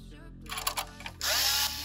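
Screws being driven back into a PS5 Slim console during an HDMI port repair, a short whirring drive that steadies into a loud continuous buzz after some brief clicks and handling noise.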